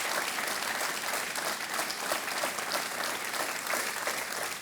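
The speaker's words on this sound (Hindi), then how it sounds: "तालियां बजती रहनी चाहिए देवी और सज्जनों" Dense studio audience applause on the set of the KBC quiz show, steady and loud throughout without a break, many hands clapping together with no voices heard above it.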